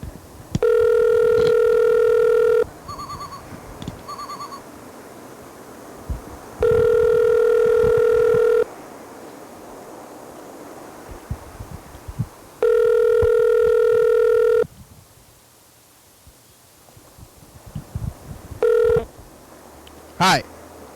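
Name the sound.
telephone dialing tones while connecting a call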